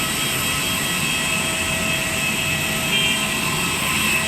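Steady roar of an Airbus A320's jet engines at an airport, a loud continuous whine and rumble from the aircraft, holding level throughout with no voices.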